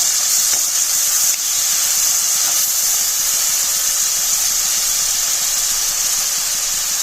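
Onion paste frying in a hot pan with turmeric added gives a loud, steady, bright sizzling hiss that stays constant and close throughout.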